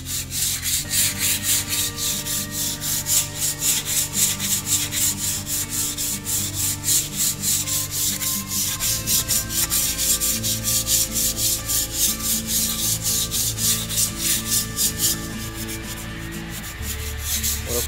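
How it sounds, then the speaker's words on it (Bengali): Wall putty of the Berger brand is sanded smooth on a wall in steady, rapid back-and-forth strokes, a continuous close scratching rasp that briefly changes texture partway through, with no voices. "এরপর আমরা ঘষবো, চলুন কী দিয়ে আমরা ঘষতে পারি।"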